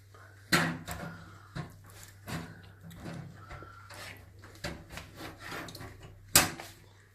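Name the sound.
hard drive sliding into homemade plastic clips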